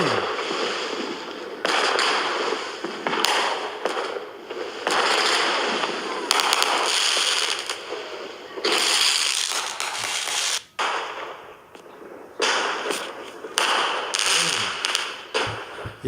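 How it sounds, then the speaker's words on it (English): Neighbors' Fourth of July fireworks and firecrackers crackle and pop in dense, repeated bursts just outside a door, loud and close, with brief lulls between volleys and little else heard. "Firecrackers are expensive, man"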